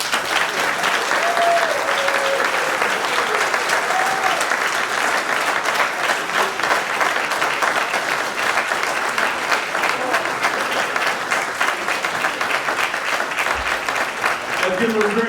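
Loud, dense applause from a banquet audience at the MACC Pioneer Awards, sustained and even, with a voice talking over it partway through.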